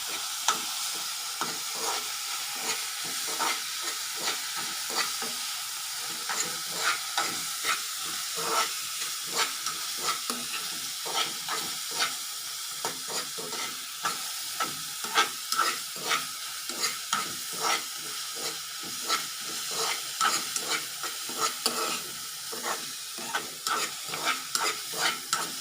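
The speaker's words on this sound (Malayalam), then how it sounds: "ഇട്ടിട്ട് കഴിഞ്ഞാലുള്ള പ്രത്യേകത വെച്ച് കഴിഞ്ഞാൽ പെട്ടെന്ന് സവാള വാടിക്കിട്ടും." Onions with salt and curry leaves sauté in a pan with a soft, continuous hiss, marked by frequent rhythmic scraping stirs throughout; quiet overall with no talking.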